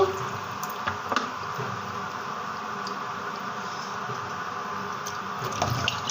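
Chicken gizzards and liver being washed in water before cooking, with soft squishing, splashing and dripping sounds close by and a few sharper wet taps.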